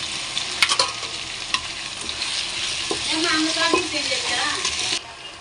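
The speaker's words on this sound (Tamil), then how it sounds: "இந்த தக்காளி வந்து பச்சை மிளகாய் தக்காளி எல்லாம் நல்லா வதங்கும் போது" Tomatoes and green chillies sauté in a pan for biryani with a steady close sizzle and frying hiss, while a utensil scrapes and stirs through it.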